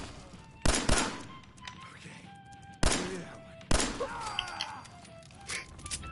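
Gunfire in the Fallout 4 video game, a few sharp separate shots spaced a second or two apart, fairly loud over a low background of game ambience and small clanks.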